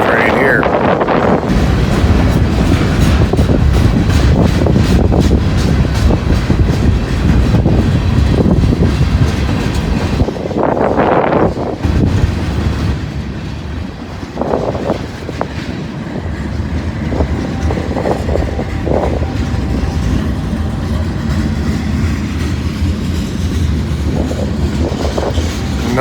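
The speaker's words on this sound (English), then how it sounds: "And we got a monster train here." A long freight train with tank cars and boxcars rumbling past close by, heavy continuous roar with rhythmic wheel clatter and gusts of wind noise on the microphone, sustained for the whole stretch.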